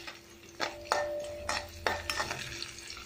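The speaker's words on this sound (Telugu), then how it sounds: "ఆయిల్లోనే మనం పోపు పెట్టేసుకుందాం" Curry leaves tempering in leftover hot oil for ginger pickle, a soft crackling sizzle under several sharp metallic clinks and scrapes of a spoon stirring in the pan, close and moderately loud.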